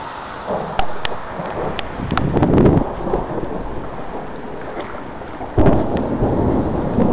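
Rumbling thunder from lightning in a tornadic thunderstorm with hail nearby, a long rolling boom that swells midway and returns with a fresh surge near the end, heavy wind noise buffeting the microphone.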